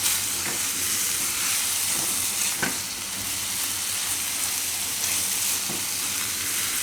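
Tomatoes cooking over a high gas flame in a pan for a sandwich filling, a loud continuous sizzle broken by a few sharp scraping stirs, close up with no talking.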